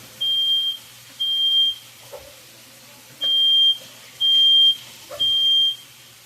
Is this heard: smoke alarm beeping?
yes